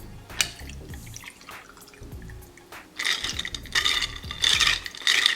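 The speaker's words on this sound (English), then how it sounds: "I'm gonna take a little tequila, pour in some orange juice" Tequila and orange juice poured into a glass for a tropical brunch cocktail, a light trickle and splash with glassy clinks and rattles, growing louder and brighter toward the end, with no talking.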